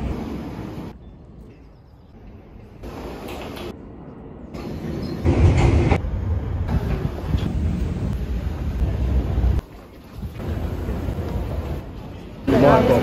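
A train at King's Cross station in London gives a steady low rumble with gusty wind buffeting the microphone, and the noise swells and drops as the train sits at the platform.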